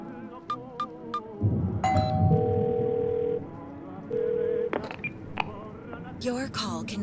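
Telephone dialing in the game 12 Minutes: a few quick high blips, then a steady two-tone ring that pauses and repeats, heard over a busy low rumble of game sound.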